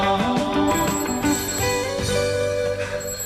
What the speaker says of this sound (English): Answer the phone, Neil.